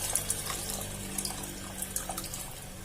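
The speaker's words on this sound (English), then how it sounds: "Now add the tamarind juice." Tamarind juice being poured into a pot of greens sambar, a short, steady stream of splashing liquid heard close by, with a few soft drips and clinks.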